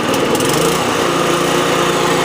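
A Toro lawn mower engine runs steadily while the mower drives along, a loud, continuous close-up drone with no breaks.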